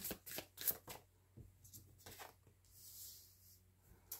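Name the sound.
cards being shuffled and drawn for a tarot reading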